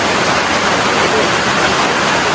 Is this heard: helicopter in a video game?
no